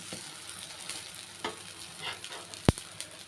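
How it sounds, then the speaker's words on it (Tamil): A black urad dal adai dosa cooks on a pan with a steady soft sizzle, a few light scrapes and one sharp clack near the end as it is flipped. "ஒரு சைடு வெந்துருச்சுங்க திருப்பி விட்டுக்கிறேன்"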